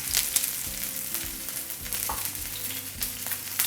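Lean fish sizzles steadily in oil in a skillet, a close, continuous frying crackle with a few soft pops and no talk.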